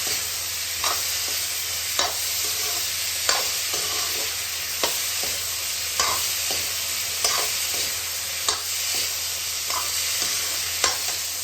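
Boiled spinach and potatoes fry in a pan under a constant sizzle, with a spatula scraping and stirring in regular strokes roughly every second, close and unaccompanied by talk.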